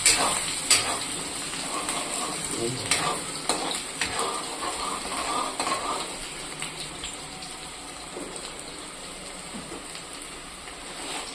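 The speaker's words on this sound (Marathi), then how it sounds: "कांदा चांगला लाल भडक होईपर्यंत आपल्याला परतून घ्यायचा आहे।" Chopped onion frying in hot oil for a stuffed eggplant curry, giving a steady close sizzle with scattered crackles and scraping stir sounds that ease off toward the end.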